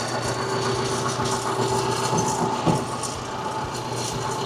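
A tractor engine idles nearby with a steady, low, rumbling drone that holds evenly from start to finish, with no voices.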